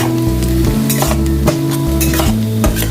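Onions fry in a pan with a loud, steady sizzle, while a utensil scrapes and stirs them in regular strokes, the metal clinking against the pan close by.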